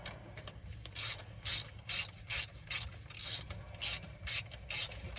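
Ratchet wrench with a socket clicking on a 1968 GMC engine, a series of short raspy bursts repeating in an uneven rhythm, close and moderately loud with no talk.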